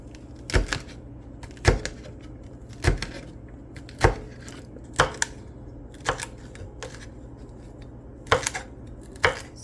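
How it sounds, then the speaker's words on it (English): A knife chops okra on a cutting board in a home kitchen, with about ten sharp, evenly spaced thuds ringing out clearly over a quiet background. "You're just gonna cut on the okras."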